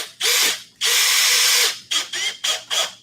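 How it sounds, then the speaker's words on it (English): A screw gun driving screws through drywall into wood, a loud whirring burst, a longer sustained run, then several short trigger pulses as the driver slows near the end. "Once it pierces into the wood, just slow it right down so that screw doesn't draw in all the way"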